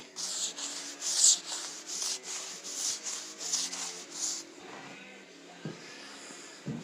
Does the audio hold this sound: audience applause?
no